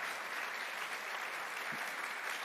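An audience at a Holocaust Remembrance Day panel event claps steadily for the panelists, a dense, even wash of applause filling the room with no voices on top.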